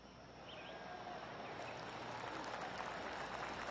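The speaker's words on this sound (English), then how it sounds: "Oh, golf clap." Polite golf clap from a gallery crowd in a PGA Tour video game, a soft, steady patter of scattered clapping held at a distance without voices.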